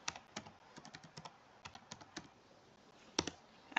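Someone types quietly on a computer keyboard at a desk, tapping out a short burst of irregular keystrokes with a pause near the end and no talking.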